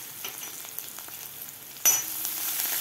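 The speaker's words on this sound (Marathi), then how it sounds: "लसूण आपल्याला थोडासा परतून घ्यायचा आहे।" Garlic, green chillies and grated ginger fry in a hot pan for a palak dal khichdi, giving a steady soft sizzle and crackle with a louder burst of spitting near the end.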